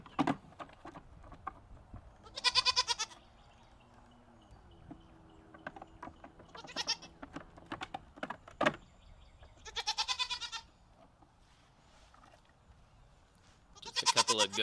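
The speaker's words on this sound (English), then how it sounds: "Let's go say hi to the goats and see how they sound, because they can make quite a racket" Several goats bleat in loud harmonic bursts, with a few calls spaced out and a louder cluster near the end, over a quiet background with light clatter between calls.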